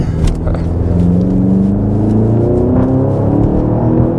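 BMW X6M with its muffler deleted accelerates hard, a loud, continuous engine roar whose pitch climbs steadily, close and upfront, with no talking over it.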